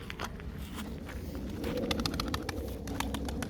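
Pigeons coo and rustle nearby, with soft low cooing under scattered flapping and shuffling sounds.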